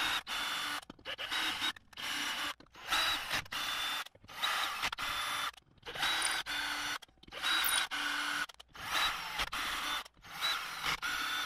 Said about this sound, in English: I'm going to run a tap down through all these holes just to chase them, make sure they're all clean.